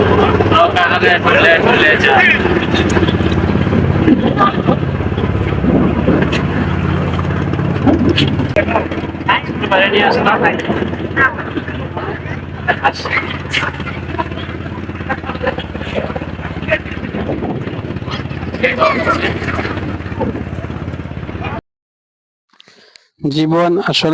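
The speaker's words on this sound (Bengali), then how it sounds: "আজকে আমরা এই প্রথম নৌকা ভ্রমণ করছি তোরাক নদীতে" A boat on the Turag river in Gazipur carries a steady engine drone and buffeting wind beneath almost continuous talking, then cuts out briefly near the end.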